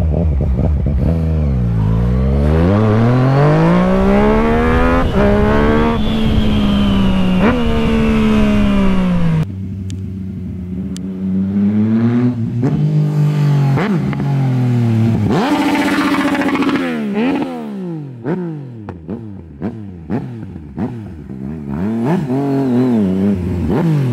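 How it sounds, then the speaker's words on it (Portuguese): A Yamaha MT-09 motorcycle fitted with a new exhaust revs hard and close, its engine note sweeping up and down, then breaks into a series of sharp pops and crackles as the throttle is released. "Na pipoqueira que tá dando escape na hora que você acelera, mano, a moto realmente tá muito forte."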